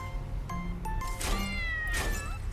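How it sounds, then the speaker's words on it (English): A cat meows several times across a couple of seconds, the calls close, clear and moderately loud over a steady low hum, with no talking. "Meow!"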